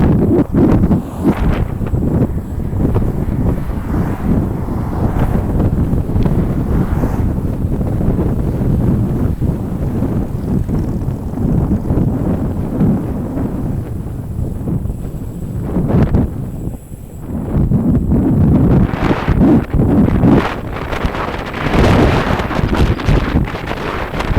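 Strong wind on Highway 1 buffets the microphone in a continuous rumbling roar, gusting harder in places with a brief lull near the middle.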